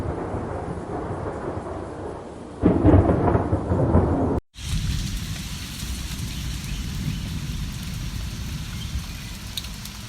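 Rain and thunderstorm effects in an animated story: steady heavy rain hisses throughout, broken by a loud rumbling thunderclap and a brief gap, then continuous downpour with no speech.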